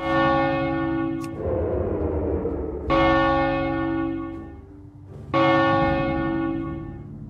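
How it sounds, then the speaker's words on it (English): A deep, resonant bell struck three times in World of Warcraft, each loud strike ringing out with a long humming decay before the next, heard alone. "Oh, that's where you ring the bell."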